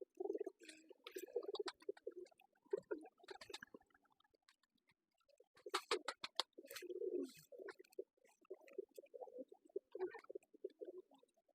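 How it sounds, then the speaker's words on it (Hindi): Black-faced pigeons coo repeatedly in low, throaty bursts, with rustling and fluttering mixed in, fairly faint and continuous with no talking. "सर ये काले मुंह वाले कबूतर है, एक ऊपर देख।"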